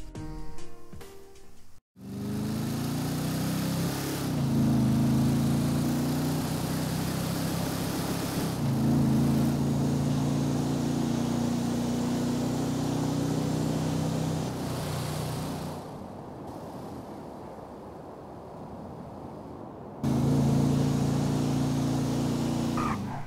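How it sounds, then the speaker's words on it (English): A Declasse Stallion classic muscle car in GTA 5 roars down a runway, its engine droning loud and steady with a brief cut near the start and a few shifts in pitch, no voices over it. "so then you guys can hear what the engine sounds like as well"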